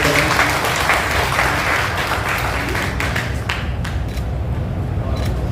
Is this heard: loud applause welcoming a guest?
yes